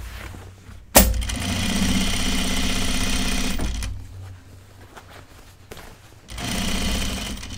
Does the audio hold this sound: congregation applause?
no